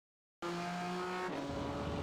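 A BMW M4 GT4 race car engine at full throttle in the iRacing simulator at Road America, starting abruptly after a short silence and droning with a steady, loud tone that shifts in pitch near the end.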